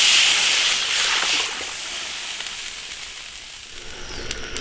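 Water poured into a hot iron wok of stir-fried braising spices hisses and sizzles loudly at first, then settles into a quieter, steady simmering bubble.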